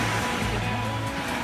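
Ocean surf rolls onto the beach at night at Ocean City, Maryland, a continuous broad wash of breaking waves with a steady low rumble, close and fairly loud with no talking.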